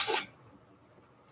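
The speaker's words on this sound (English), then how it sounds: "Excuse me, I got to sneeze." A single short, explosive sneeze bursts out up close, followed by near silence and the start of another sharp breath at the end.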